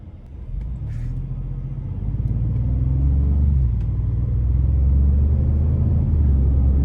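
Deep, steady engine rumble from the driver's seat of a 2025 Ford Expedition Max Platinum SUV, swelling gradually louder as it accelerates, with no voices.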